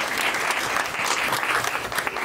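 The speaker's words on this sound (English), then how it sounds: "Let's give her a round of applause." Loud, sustained applause from the audience at a town hall meeting in East Athens, dense clapping filling the room without pause.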